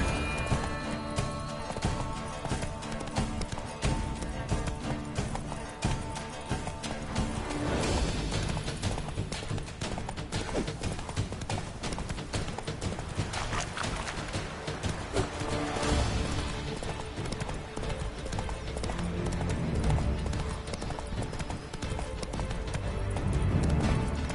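A horse galloping in The Witcher 3: Blood and Wine, steady rapid hoofbeats pounding on without pause for over twenty seconds, loud and close, with no speech.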